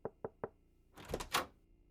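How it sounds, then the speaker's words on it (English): Three evenly spaced knocks land on a door, close and crisp, followed by a louder cluster of rustling, clattering thumps. "You knock on her door."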